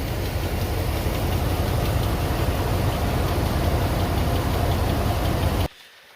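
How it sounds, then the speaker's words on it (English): Van engine idling steadily after a water pump and belt repair, a dense continuous rumble held close and loud for about six seconds before cutting off abruptly. "It's idling a lot better now."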